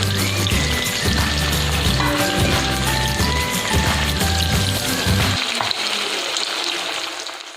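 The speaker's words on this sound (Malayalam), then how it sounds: "ഒക്കെയുള്ള ചിക്കനും കൂടെ ഒന്ന് ഫ്രൈ ചെയ്തെടുക്കാം." Chicken pieces deep frying in hot oil give a steady, close sizzling hiss, with a bed of melodic background music over most of it that drops away near the end.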